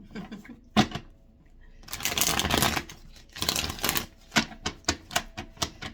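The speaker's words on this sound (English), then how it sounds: "Let's get 2 more shuffles." A deck of tarot cards is riffled and shuffled close by, with bursts of crisp flapping and then a run of sharp taps as the cards are squared, with no talking.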